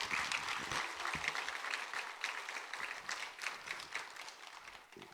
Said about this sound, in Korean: 우리 목사님 환영의 박수.